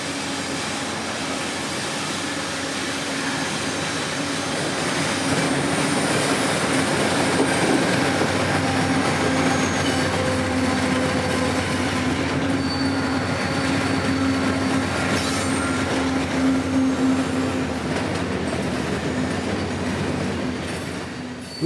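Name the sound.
CSX freight train led by America 250 locomotives passing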